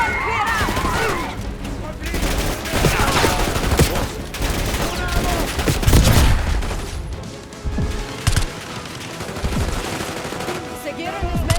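Rapid bursts of automatic gunfire and shots crackle in a Call of Duty: Black Ops 6 firefight, loud and dense with sharp impacts, heard alongside brief spoken lines.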